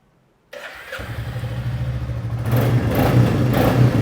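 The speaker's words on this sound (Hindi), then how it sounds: "अभी भाई आपके सामने जो चेक करे कि बाइक वन सेल्फ स्टार्ट है कि नहीं" A 2024 motorcycle is started with its self-start button. After a moment of silence the engine catches and settles into a close, steady idle that grows slightly louder with throttle blips toward the end.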